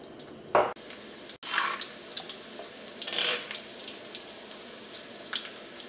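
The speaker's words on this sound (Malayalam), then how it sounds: "ഈ എണ്ണയിലേക്ക് നമുക്ക് ഏറ്റവും ആദ്യം തന്നെ ഇഞ്ചിയും പച്ചമുളകും ചേർക്കാം." Ginger and green chillies dropped into hot oil for a kozhi roast, giving a brief loud splash and then a soft steady sizzle with a few light clinks of a utensil.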